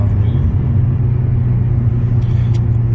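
A 300 hp Audi S3 under hard acceleration, a heavy, continuous low engine drone filling the cabin, loud and steady throughout.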